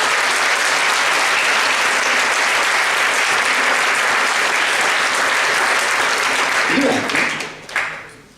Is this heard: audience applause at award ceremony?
yes